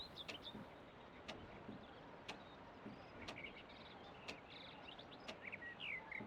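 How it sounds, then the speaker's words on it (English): Birds chirping through an open window in a video game scene, faint scattered tweets and short calls over a soft ambient background, with a few sharp clicks. "Like open window, the sound of birds"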